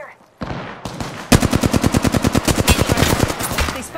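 Rapid automatic gunfire in Apex Legends, loud and close, with a short burst of shots followed by a long even stream of about twenty-five evenly spaced rounds.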